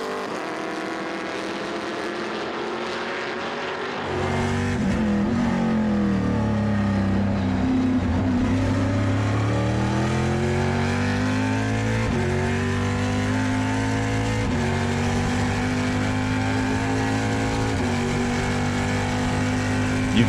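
Trans Am race cars at Portland roar in after a few seconds of quieter background. One loud engine note climbs and drops through gear changes, then holds a strong, steady drone to the end, with no talking.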